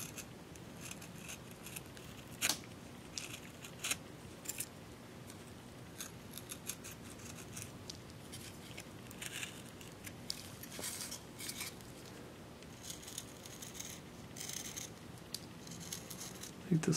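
A knife carving a stop cut into a wooden ornament, making soft repeated scraping and snicking cuts, close and quiet with brief sharper clicks.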